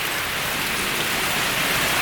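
Heavy rain pours down in a Shanghai street, a loud, dense, unbroken hiss that fills the whole stretch with no voices.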